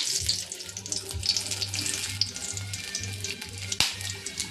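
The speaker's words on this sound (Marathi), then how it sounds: "आता तेलामध्ये हा अख्खा मसाला सोडूया" Whole spice masala dropped into hot oil, already used for frying eggs, sizzles and crackles steadily up close, with a low bubbling hum beneath and no voices.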